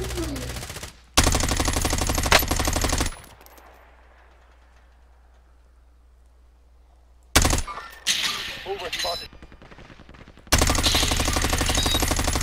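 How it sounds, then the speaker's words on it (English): Assault-rifle gunfire from an XM4 or FARA in a shooter video game rings out in loud, dense automatic bursts, with a long quiet gap between volleys and voices talking in between. "Somebody else is shooting at him over there."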